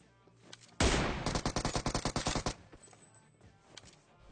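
Sniper rifle fire in the PUBG Mobile shooting game, one loud sharp blast followed by a rapid string of about a dozen punchy shots lasting under two seconds, then quiet background.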